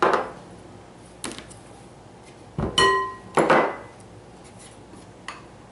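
Dry ingredients and cocoa being sifted for zucchini brownies: a few sparse, sharp clinks and taps of a metal sieve against a bowl, spread over a quiet background with no talking.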